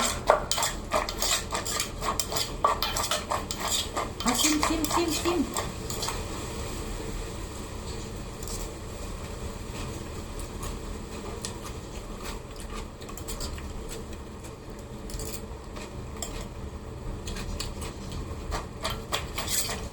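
Irregular clattering knocks and scraping taps of a pestle pounding and stirring a papaya-style salad in a mortar continue steadily at close range with no talking.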